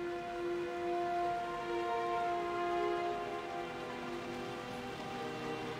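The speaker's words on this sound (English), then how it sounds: "Oh, it's raining." Steady rain falls in the World of Warcraft game world, a soft continuous patter under a faint tonal ambient hum, with no talk.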